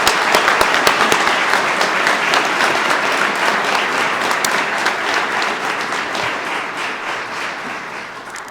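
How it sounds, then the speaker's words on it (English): Steady applause from the crowd at a police recruit class graduation ceremony for the new officers, dense continuous clapping that fades gradually toward the end, with no talk. "One more round of applause for our new officers."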